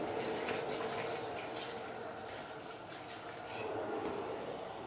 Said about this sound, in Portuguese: vamos colocar só um bocadinho de água para ver.